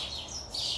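Birds chirping near patio bushes in a backyard vegetable garden, with a few bright tweets close by over soft outdoor background noise.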